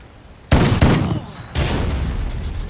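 Gunfire in Call of Duty Ghosts, loud close bursts of rapid shots, a couple of sharp reports at first followed by a sustained volley that runs on to the end.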